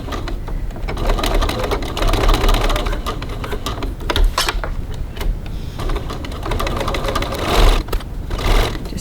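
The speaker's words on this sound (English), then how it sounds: "I've put my walking foot on here because I think it does a better job with straps, and I'm stitching 3mm 1/8 of an inch from the edge" A sewing machine fitted with a walking foot stitches straps for a cross-body bag, running in a fast steady mechanical whirr with brief pauses and restarts, close and prominent with no talking.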